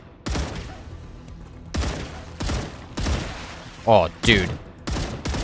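A low-recoil gun firing in the video game Star Rupture: several loud, close bursts of shots come at irregular intervals, with a brief spoken exclamation in between.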